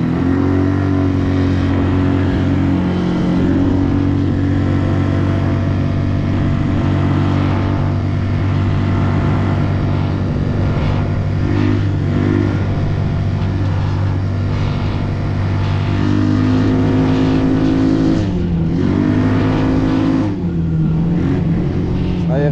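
A restored quad bike engine idles steadily as it warms up after a cable adjustment, a continuous, close, fairly loud motor hum with slight shifts in pitch and no talk over it.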